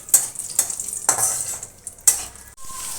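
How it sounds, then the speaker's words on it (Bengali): Whole cumin seeds and two dried red chillies hit hot oil left from frying fish, giving a steady close sizzle with sharp clinks of a spatula stirring against the pan. "মাছ ভেজে নেওয়া ওই তেলের মধ্যে দিয়ে দিচ্ছি গোটা জিরে ফোড়ন আর দিয়ে দিচ্ছি 2টো শুকনো লঙ্কা"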